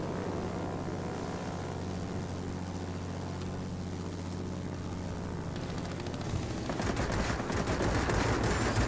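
Propeller fighter guns fire in World of Warplanes from a Mustang IA, a dense steady roar of engine drone and rapid gunfire that swells louder toward the end, with no talking.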